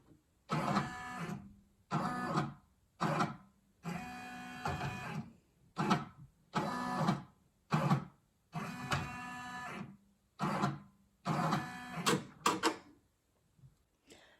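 An embroidery machine traces the square outline of a design on a baseball hat, making about a dozen close, separate bursts of mechanical whirring and buzzing in an uneven rhythm, with short pauses between them and no talking.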